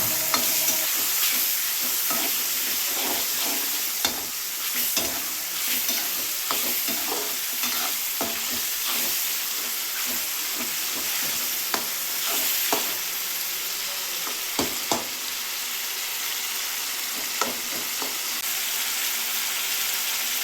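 Ginger garlic paste fries with tomatoes in a pan for a dried squid curry, a continuous close sizzle broken by frequent scraping clicks of a stirring spoon, with no talk.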